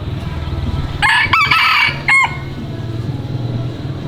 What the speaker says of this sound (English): Here's the rude rooster.